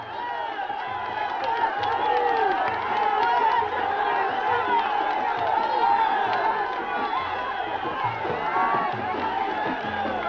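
A huge festive crowd gathered in the desert at Tarfaya, Morocco, a steady roar of many voices with chatter, shouts and cheering, dense and sustained throughout.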